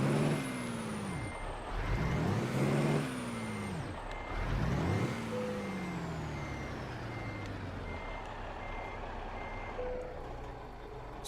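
Freightliner FLB truck in American Truck Simulator, its engine droning with rising and falling revs as gears change, heavy low harmonics, with a steady beeping tone and an air brake hiss, loud and close without talk.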